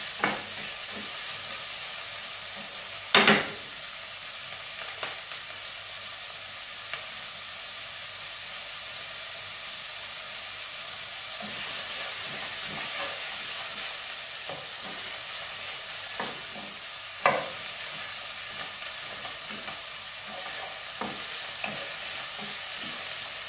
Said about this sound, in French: je vais les laisser dorer un petit peu en remuant bien pour pas que les échalotes et l'ail brûlent